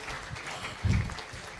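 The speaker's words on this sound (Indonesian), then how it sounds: "Boleh tepuk tangan untuk saya?" Graduation-ceremony audience at a stand-up comedy set clapping briefly, a moderate even patter with a short low thump midway, fairly close and without speech over it.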